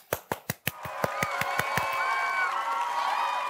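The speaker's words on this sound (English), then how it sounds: "let's give a big round of applause for the So-and-So Show Players" In a church service, a few sharp, spaced handclaps start off the applause for a group of performers. They swell into sustained crowd clapping mixed with whoops and cheers that keep going steadily to the end.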